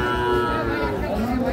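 A six- to seven-month-old Sahiwal bull calf gives a long, loud low moo at a busy cattle market, close by, with crowd chatter in the background.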